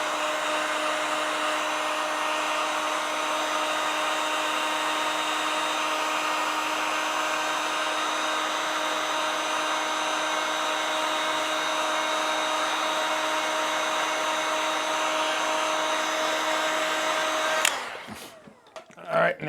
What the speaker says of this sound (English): And now we heat the heat shrink.